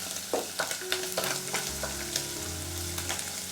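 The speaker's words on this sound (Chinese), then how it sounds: "五花肉煸出油了，我们把蒜末加进来， 再来一点点辣椒圈" Pork belly stir-frying in hot oil with garlic and chili in a wok, a steady close sizzle with scattered pops and spatula scrapes, no voices.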